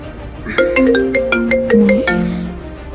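A loud, close melodic phone ringtone plays a quick rising and falling tune of bright synth notes, then fades.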